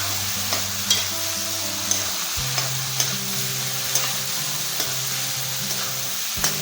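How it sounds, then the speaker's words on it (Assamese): Shrimp fry with pumpkin in a pan, making a constant, bright sizzle. A spatula clinks and scrapes at a roughly steady pace, about once a second, and no one talks. "এতিয়া মই এয়া মিছা মাছখিনি ইয়াত দি দিলোঁ। ভালকৈ ফ্ৰাই হ'লে ভাল লাগে খাই।"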